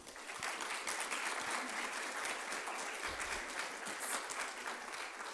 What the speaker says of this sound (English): if you can give them a great round of applause